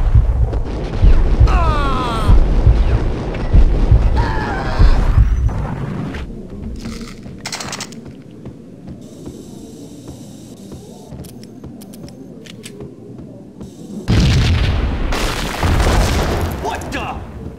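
A bomb explosion in the video game Max Payne, heavy booming blasts and rumbling debris, loud at the start, fading to quieter ambience, then a second strong burst near the end, with voices speaking at times.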